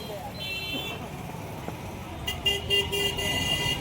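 Busy market street traffic in Gwalior on Holi, a constant rumble of vehicles with several short car horn toots, some nearby and some farther off.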